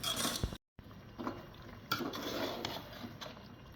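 Chicken and chickpeas being stirred in a pot, a spoon scraping and clanking against the metal with a low sizzle underneath, broken once by a brief silence.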